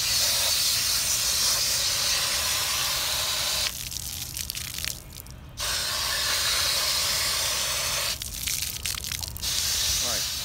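Water runs steadily from a tap as a diving mask is rinsed off, a loud continuous hiss broken twice by brief drops where the flow is interrupted or blocked by hands.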